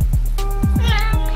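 A cat meows close and loud, one drawn-out plaintive wail rising over a steady low rumble and a series of rhythmic thumping sweeps.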